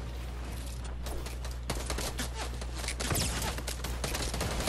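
Heavy, continuous crackling gunfire from both sides in a shooter video game, dense overlapping shots and bursts, loud and close throughout with no talking.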